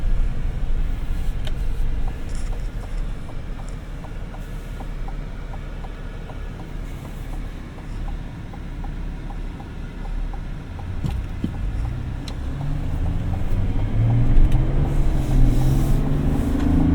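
Steady low rumble of a 2025 GMC Sierra 1500 Denali Ultimate's 3-liter diesel engine while driving, a continuous drone from inside the cab that swells with rising tone toward the end as the truck accelerates.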